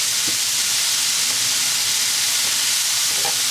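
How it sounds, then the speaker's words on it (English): Chopped onion sautés in a pan for Japanese curry, giving a steady, moderate sizzling hiss with a few faint stir clicks throughout and no voices. "Today I'm just sauteing this onion."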